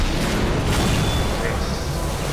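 A bridge is being blown apart in the Half-Life 2 video game, a loud, continuous roar of explosions and rumbling debris that fills the whole stretch, with speech mixed in.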